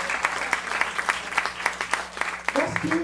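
Scattered clapping from an audience at a Berklee City Music summer scholarship meeting. A few hands patter unevenly, and a voice begins talking near the end.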